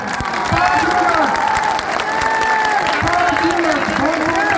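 An audience at a political rally claps steadily and continuously, a dense, loud wash of applause filling the space, with a voice faintly audible over the crowd.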